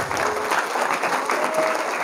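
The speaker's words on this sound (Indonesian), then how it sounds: "tepuk tangan boleh" A brief burst of audience applause at a lecture, steady clapping from a crowd of listeners lasting about two seconds.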